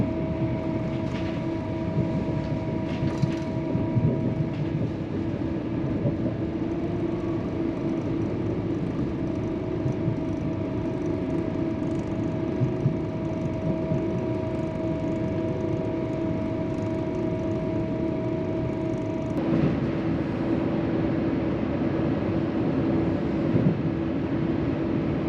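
Steady rumble inside a Trenitalia train carriage in Italy, with a constant low drone, a steady mid-pitched hum and brief shifts in tone, running continuously with no talk.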